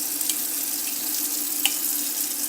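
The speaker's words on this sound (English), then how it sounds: "always turn on cold water if you have plastic pipes" Cold water running steadily from a kitchen faucet into a sink, a continuous hissing stream with no talk.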